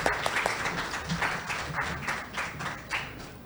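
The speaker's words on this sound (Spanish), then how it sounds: "Un aplauso." An audience applauding steadily, many hands clapping together in a dense, continuous patter that holds at an even level throughout.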